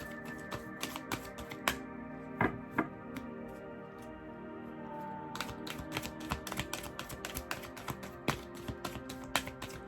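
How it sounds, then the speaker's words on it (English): Tarot cards shuffled by hand, a quiet series of irregular crisp taps and flicks close by, some sharper snaps standing out, with no talking. "the cards are shuffling weird"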